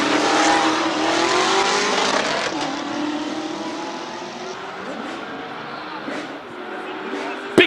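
A BMW Z4 M race car charges up the Cape Town hill climb course, its engine a sustained roar that slowly fades as it pulls away, with an announcer talking over it.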